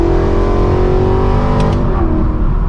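A straight-piped, Gintani-tuned BMW M3 E92 V8 revs loud and close, its engine rising in pitch in a sustained raspy howl before easing off.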